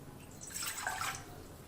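Water is poured into a kadhai for steaming idli, a soft splashing trickle that swells briefly in the middle and fades again. It is faint and close, with no talk over it.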